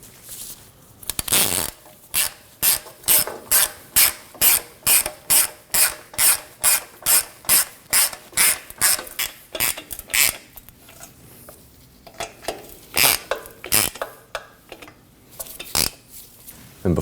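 A hand ratchet clicks in quick, even bursts of strokes as it snugs bolts on a 2003-2006 Subaru Baja while fitting a neutral safety switch. The sound is close and clear, with brief pauses between runs and no talking.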